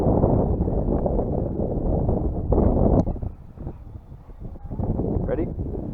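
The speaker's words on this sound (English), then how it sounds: "we're going to take the Valiant up on a extremely windy day" Extremely strong wind at a model airfield pounds the microphone with heavy, rumbling buffeting that eases briefly midway before surging again, loud and close throughout.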